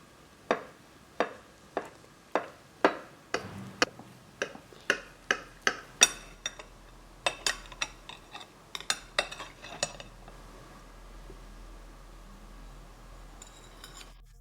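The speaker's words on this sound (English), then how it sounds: "Let's slice it." A berry pie is cut into slices, with a long run of sharp, evenly spaced clicks and taps from the knife against the pan, close and crisp, then thinning out into quiet near the end.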